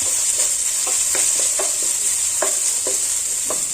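Ginger garlic paste stirred in a frying pan for samosa filling, a steady sizzle under a series of soft spoon scrapes and taps in uneven rhythm, close and alone.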